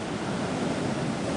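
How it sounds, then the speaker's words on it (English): Ocean surf with set waves rolling in at a surf break, a steady broadband wash of breaking water mixed with wind noise on the microphone, loud and continuous with no voices. "look at these set waves that are coming in"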